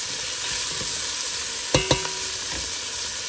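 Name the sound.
stirring tomato as it fries in a pan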